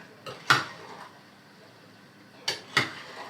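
A spoon clinking against a pot while sugar is stirred into strawberries and cherries for jam, giving a few sharp, quiet metallic taps in two small clusters over a soft background.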